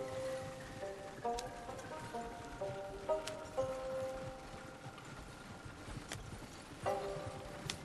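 Horse hooves galloping in the video game Red Dead Redemption 2, a steady clip-clop rhythm running under ambient game music and rain-like noise, moderately loud throughout.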